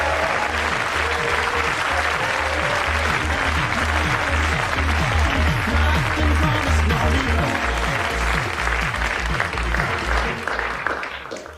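A radio studio audience applauds and cheers for a sustained stretch, dense clapping with whoops and music underneath, loud and continuous before tapering off at the end.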